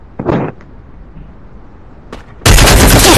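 Gunfire in the mobile shooter Free Fire: a short muffled shot near the start, then a loud, dense burst of firing cutting in abruptly and running to the end.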